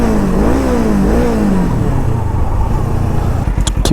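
A motorcycle engine revs hard right after being restarted following a dead battery, the pitch climbing and dipping in a couple of loud close blips before settling into a rough idle, with a few sharp clicks at the end.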